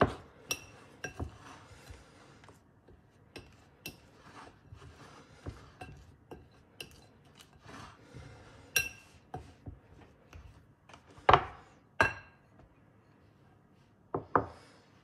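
Blue cheese, butter and flour are mixed in a bowl, with irregular knocks and clinks of a utensil against the bowl, some louder taps among quieter scraping.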